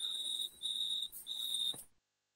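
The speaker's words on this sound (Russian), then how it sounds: "Там у тебя сверчки," Crickets chirping outdoors, shrill continuous trills in three bursts with short gaps, moderately loud, alone with no voices, ending in silence.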